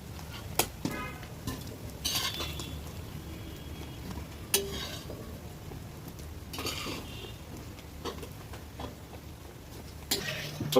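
Fried mutton liver being stirred in a pan, with a few scattered scrapes and clinks over a faint background sizzle.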